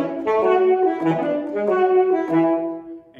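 An alto and a soprano saxophone play a short interlocking melodic figure in harmony from Villa-Lobos's Choros No. 2, clear and close, repeating a phrase before trailing off.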